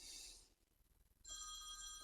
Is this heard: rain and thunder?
no